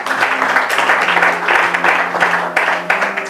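A congregation applauds during a French-language Bible teaching, a dense, loud wash of clapping that swells in uneven bursts over about three seconds.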